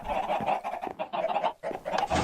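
Minecraft chickens cluck steadily in a chicken XP farm, a dense overlapping chorus of game clucks, moderately loud and continuous with no talk.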